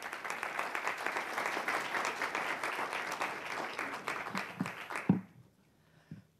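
A large audience claps in sustained, dense applause that holds steady for several seconds, then tapers off into a few scattered claps and near quiet.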